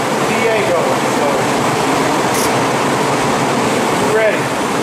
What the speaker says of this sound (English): You're going to hear the fan and the compressor DA going